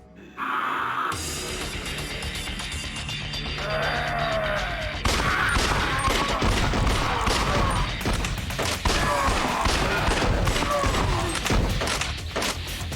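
Rapid gunfire and crashing impacts from a shooting segment of the video game Judgment, with dense bursts of shots and thuds running steadily through the passage over a constant game soundtrack.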